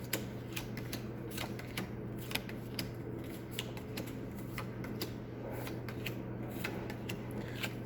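Playing cards are laid down one after another into rows on a table, making a run of quick, light flicks and taps at an uneven pace over a low steady hum.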